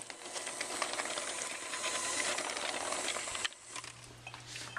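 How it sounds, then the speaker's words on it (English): An electric hand mixer runs on low speed, beating gluten-free raspberry loaf batter with cinnamon in a bowl, giving a steady close whirring hiss with a faint motor hum that shifts slightly near the end. "blend this mixture with our mixer on a low speed for about a minute"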